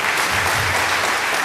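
Church congregation applauding during a Portuguese-language sermon, a dense steady burst of clapping at full level throughout.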